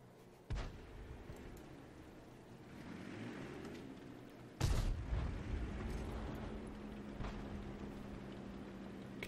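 An M12 155mm self-propelled gun fires in a video game: two sharp, booming blasts several seconds apart, each followed by a rumbling tail over low background noise.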